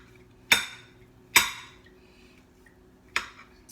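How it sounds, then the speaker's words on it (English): A knife strikes a plate or cutting board while chopping already-shredded chicken, giving three sharp clinking chops, the first two close together and the third after a pause, each with a short ringing decay. "I'm gonna cut this chicken up a little bit more"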